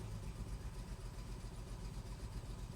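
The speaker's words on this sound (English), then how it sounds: "We're running, we're idling." A car engine idles roughly while still cold, giving a faint, continuous low rumble with a slightly uneven pulse and no voices over it.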